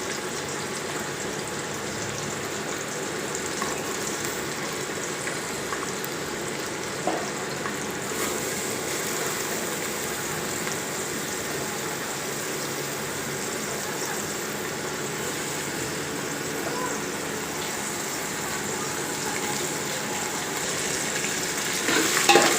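Onions sautéing in a pan, a steady broadband sizzle with faint stirring scrapes running evenly throughout, close and moderately loud, with a slight swell at the very end.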